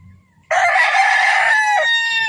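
A stag rooster in a backyard crows loudly and close by, one sustained crow after a brief quiet moment of low clucking.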